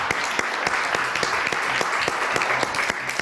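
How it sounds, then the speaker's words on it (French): A studio audience applauds loudly for a singer's arrival on a French entertainment show, with dense, sustained clapping and sharp individual claps standing out through the steady roar. "que je vous demande d'applaudir très très fort."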